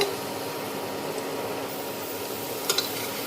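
Spices stirred with vegetables in a pot on an induction cooker, heard as a soft, steady sizzle with a couple of faint scrapes or clicks near the end.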